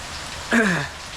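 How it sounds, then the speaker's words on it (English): Heavy rain during Tropical Cyclone Alfred, a constant dense hiss of downpour with a short wailing animal-like call rising over it midway. "Safe to say that the rain is pretty full on right now."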